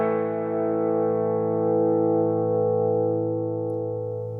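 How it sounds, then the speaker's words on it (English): A sustained distorted electric guitar chord through a Morley M2 series pedal set to its slowest tremolo speed, ringing steadily with a slow, gentle swell rather than quick pulsing. "we've got the slowest possible tremolo speed here. It's going to take a while to come in and out"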